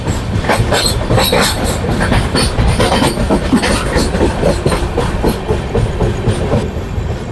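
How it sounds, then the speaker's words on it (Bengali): The Kolkata–Kamakhya Garib Rath Express runs through the night near Malda Town, its loud continuous rumble mixed with rhythmic clickety-clack of wheels over rail joints and a faint hiss. "আমাদের ট্রেন এখন প্রবেশ করলো মালদা টাউন স্টেশনে"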